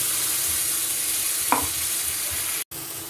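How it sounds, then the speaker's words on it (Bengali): Tomato puree goes into Kashmiri chilli powder and spices frying in a pan for dhaba-style chicken, a steady sizzle with a short stirring scrape in the middle and a momentary cut near the end. "এক চামচ কাশ্মীরি লঙ্কার গুঁড়ো অ্যাড করলাম এবার টমেটো পিউরি অ্যাড করছি"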